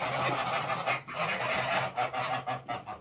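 Domestic geese in a village yard in winter honk close by, a loud, ragged series of overlapping nasal calls that grows choppier and more pulsed toward the end.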